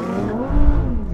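Lamborghini Huracan, Audi R8 and Nissan GTR launching off the line in a race start: a loud, close engine roar rising in pitch with a deep rumble, steady and dense for about a second.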